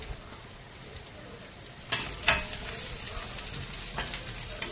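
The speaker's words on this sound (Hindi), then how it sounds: "प्याज को सुनहरा होने तक भूनेंगे" Chopped onions fry in hot oil with mustard seeds and curry leaves, a low sizzle with a few sharp crackles and stirring scrapes, heard up close and alone.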